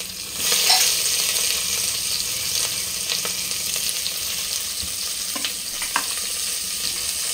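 Onion, curry leaves and green chillies sizzle steadily in hot oil in a pan, a close continuous fry with a few light scrapes of stirring.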